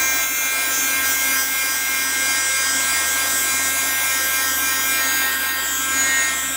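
A hair dryer blows steadily over a wet watercolor painting, a loud, continuous close-up whirring hiss with no breaks.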